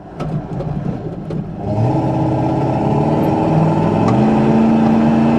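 A 1990 Ford F-150 XLT Lariat 4x4 pickup with a 5.8-litre V8 and automatic transmission revs and winds up steadily, its pitch stepping as it downshifts, loud and close with a continuous mechanical roar.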